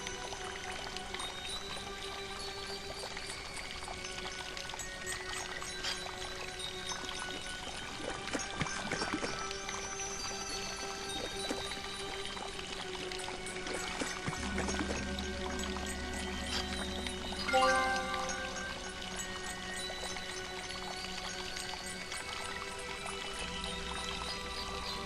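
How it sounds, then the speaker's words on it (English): Water pouring and spurting steadily from a fountain in the video game Discworld 2, a continuous splashing stream under looping game music, with a low tone entering partway through. "The water is spurting up through a little hole in the base."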